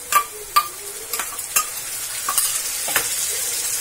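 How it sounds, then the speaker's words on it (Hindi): Ginger garlic paste is stirred into golden-brown frying onions for chicken curry: sharp, regular spoon knocks against the pot over a continuous moderate sizzle. "अब इसमें हम अदरक लहसुन का पेस्ट ऐड करेंगे। इसे भी मिला देंगे।"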